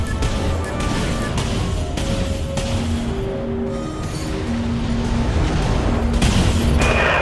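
Missiles strike a ship in the space combat game Dreadnought, giving repeated booming impacts and crashes under a layer of game music and background tones.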